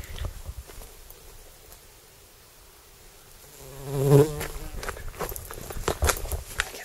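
Bumblebee buzzing outdoors in the English countryside, a faint drone that swells briefly as it passes close, with footsteps and light ambient noise around it.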